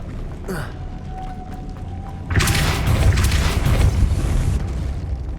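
Depulso spell effect in Hogwarts Legacy, a sudden heavy booming blast partway through that follows a quieter, softer whoosh and rumbles on for a few seconds.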